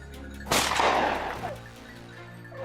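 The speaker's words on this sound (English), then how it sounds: "A relentless barrage of gunfire followed, cutting off their retreat." A heavy burst of gunfire during a wild boar hunt on a farm, a sudden loud blast that dies away into a long rumbling tail over a steady low hum.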